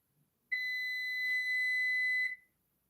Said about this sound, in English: This thing's gone crazy. My timer won't turn off.